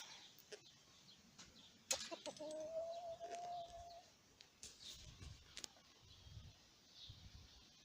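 Roosters cluck and call nearby, one giving a drawn-out crow, amid faint rustling in an otherwise quiet setting.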